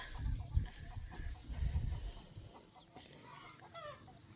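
Chickens cluck and call around a rural Thai farmyard, several birds fairly close in overlapping bursts with low rustling noise beneath and a few higher squawks toward the end; no talk is heard.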